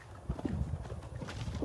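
A stallion walking at an equine reproduction center, its hooves clip-clopping in an uneven rhythm close by, with faint background murmur.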